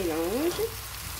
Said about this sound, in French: Je prends ma poêle, je mets de l'huile. Je vais mettre mes oignons. Je vais mettre mes aubergines en même temps.